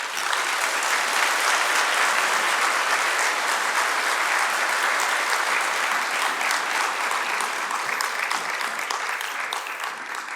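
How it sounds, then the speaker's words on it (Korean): An audience at a church lecture breaks into loud, sustained applause to welcome a speaker to the stage. The dense clapping stays steady and close for the whole stretch with no voices over it. "나오실 때 큰 박수로 환영해 주시면 감사하겠습니다"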